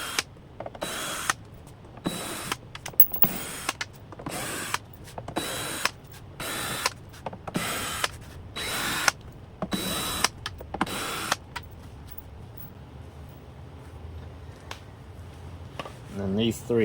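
A manual 4mm Allen key loosens the screws holding the mesh grille on an RCF SUB 9006-AS subwoofer, giving a run of short, regular ratcheting clicks and scrapes close by, then quieter handling toward the end.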